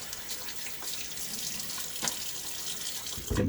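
A tap runs steadily into a bathroom sink with hard water, a continuous close hiss and splash, and a brief louder splash near the end, with no talking.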